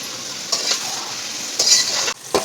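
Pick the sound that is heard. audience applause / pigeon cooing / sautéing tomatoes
sautéing tomatoes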